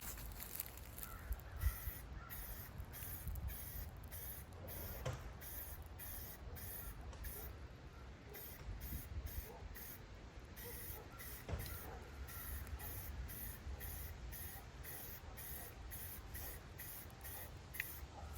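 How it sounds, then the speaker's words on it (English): Rust-Oleum metal primer sprays from an aerosol can fitted with a trigger handle onto a firewood rack, long hissing bursts repeating with brief pauses, close and fairly loud over low background rumble. "I did pick up this Rust-Oleum handle to make the spraying a little easier"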